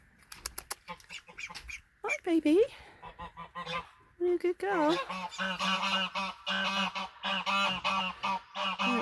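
A nesting Muscovy duck gives repeated close, nasal honking and chirping calls in quick bursts, mixed with a woman's soft speech near the start.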